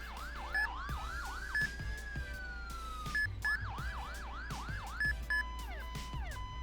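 International-style ambulance siren from the ER:LC video game wails in repeated rising and falling sweeps, interrupted by short electronic blips and tone changes, clear and prominent over a low steady hum.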